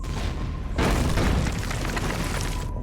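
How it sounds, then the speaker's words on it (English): A grenade blows up in the game Empyrion Galactic Survival, a sudden loud boom that bursts in and rumbles on for about two seconds before cutting off. "Chuck a grenade at it"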